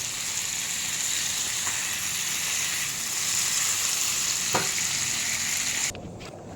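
Chicken and spices cook down for chicken kosha in oil with a loud, dense, steady sizzle close by, with a stirring clank or two, then the frying abruptly drops away near the end.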